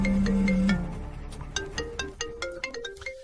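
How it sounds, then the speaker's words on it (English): A phone ringtone sounds during a call that goes unanswered, a short melodic tune of bright repeating tones, close and clear with no talking. "Derek, this is the first time you haven't answered my call"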